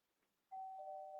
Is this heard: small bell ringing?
yes